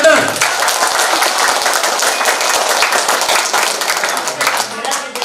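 A seminar audience in a Surabaya hotel breaks into loud, brisk applause, many hands clapping together at close range for several seconds before tapering slightly at the end.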